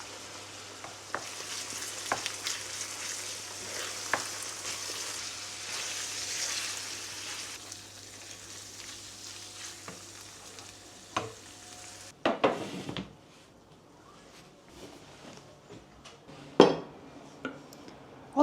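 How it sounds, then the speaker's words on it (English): Spice pastes cook in hot oil with a steady, fairly quiet crackling sizzle, then a clatter of utensils against the pot and scattered clinks take over. "I'm gonna wait for my pastes to cook with the oil first and then mix everything."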